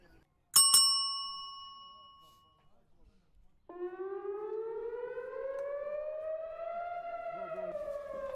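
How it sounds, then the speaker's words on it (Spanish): A civil defense air raid siren warning of missiles from Iran winds up after a sharp double bell-like ring, then holds a loud, steady rising wail with clear harmonics, alone and close. "Está por sonar la alarma probablemente, y tendré que meterme en el refugio antibombas por misiles de Irán."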